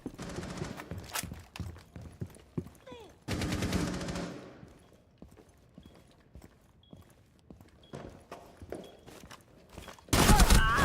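Video game gunfire crackles in rapid bursts and single sharp shots amid footsteps and other game effects, with a dense loud burst midway and another at the end, while players talk over it.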